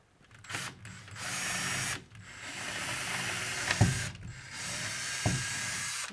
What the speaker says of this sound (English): So I'll just be drilling a pilot hole first.